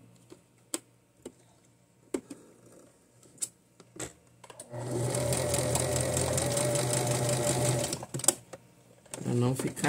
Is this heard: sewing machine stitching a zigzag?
yes